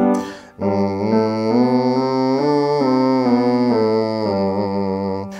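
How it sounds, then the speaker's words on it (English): A single voice hums a steady five-note major scale up and back down, each note held evenly, close and clear with no other sound. "I want you to sing a very simple 5-note major scale."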